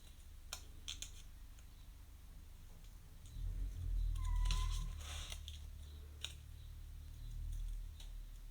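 Scissors snip around the corners of paper flower petals, giving a few soft, scattered cuts close to the microphone in a quiet room, with faint rustling between them.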